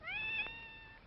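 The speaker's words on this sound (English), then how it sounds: "Nice, kitty." A cat gives one drawn-out, tonal meow lasting about a second, moderately quiet and fairly close, with no voices over it.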